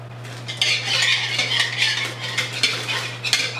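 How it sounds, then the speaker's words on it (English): A utensil stirs donut batter made from a boxed mix in a bowl, with steady scraping and clinking strokes that are close and continuous, over a low electrical hum. "Mix it. Keep mixing."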